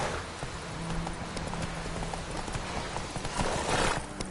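A horse in The Witcher video game trots along with a steady, fairly quiet clip-clop of hooves over a dense background of game ambience, and no voices.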